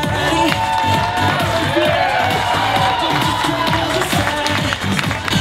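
Wedding guests applauding and cheering together in a lively crowd, continuous dense clapping with shouts and whoops, loud and close throughout while voices call out over it.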